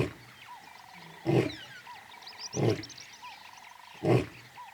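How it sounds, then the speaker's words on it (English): A male lion's deep bellowing roars in the wild, three loud bursts about 1.3 seconds apart over a background of frog-like croaks and ambient calls. "He announces his presence with a bellowing roar, which can be heard for up to 8 kilometers."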